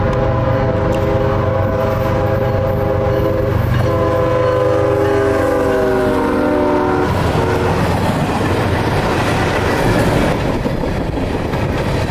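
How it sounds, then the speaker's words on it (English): Long, massive M442 freight train passing near Folkston, bound for Waycross, with a loud sustained horn blast over steady rumbling wheels and clickety-clack of railcars that continues after the horn fades. "M442 comes with a massive train for Waycross"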